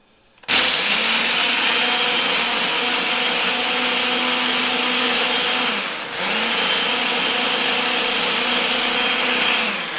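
Blender whirring through a mango pineapple smoothie, switching on abruptly with a loud steady motor drone, briefly dipping in pitch as the contents shift, then running on evenly until the end.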